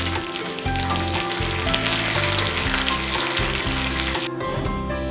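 Mustard seeds, chopped garlic and curry leaves sizzle loudly in hot oil for a tadka, a dense, crackling hiss with faint popping throughout that cuts off sharply near the end.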